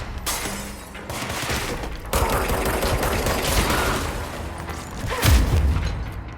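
Shotgun blasts in the action game Control, heavy booming shots layered over a steady roar of combat noise, with a sharp break near two seconds and a deep, punchy burst toward the end.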